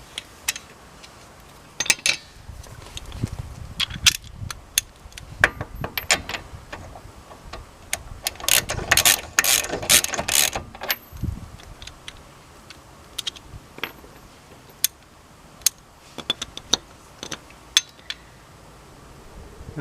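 A ratchet wrench clicks in uneven bursts while turning a bolt on Toyota Celica brakes with pads worn down to the metal, sharp close ticks with a denser run of clicking in the middle.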